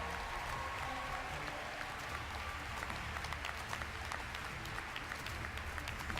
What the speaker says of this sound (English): That was a smattering of applause for Steve.